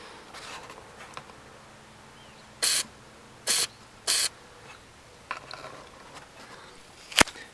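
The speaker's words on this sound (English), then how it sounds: "I'm going to spray a little bit of the lubricant in both of those areas" Short hissing bursts of lubricant spray are applied to Ford Ranger fuel injector seats, three distinct spurts in quick succession at close range in an otherwise quiet work space, followed by a faint click.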